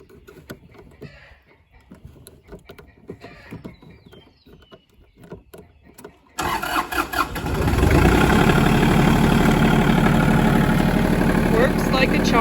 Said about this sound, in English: Let's start the tractor.